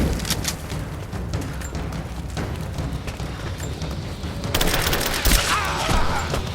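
Gunfire in the action game Rise of the Tomb Raider: repeated sharp shots and rattling volleys over a thick rumbling battle backdrop, with the firing growing louder and denser toward the end.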